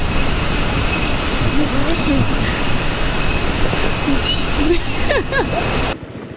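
Steady rushing roar of a waterfall in Munduk, Bali, loud and close, with a person talking faintly over the noise before it cuts off near the end.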